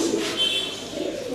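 Giasulli pigeons in a loft for sale cooing close by, a low throaty coo with a brief higher chirp amid faint background hum.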